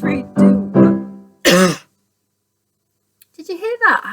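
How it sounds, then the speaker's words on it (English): A person coughs several times in quick succession, then gives a harsh throat clearing at close range during a school singing assembly, followed after a pause by a few soft voiced sounds. "I had a really big cough in my throat then. I'm going to clear that."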